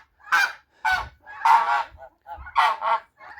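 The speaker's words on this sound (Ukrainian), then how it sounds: "гуси тут кричать, тому що чують, що тут є житель" Geese honking nearby in a series of loud, separate calls, some doubled, with short pauses between them.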